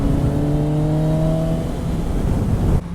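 A Suzuki Gixxer motorcycle engine runs steadily close alongside while riding, a loud continuous hum with steady harmonic tones that shift slightly, then a sudden change near the end.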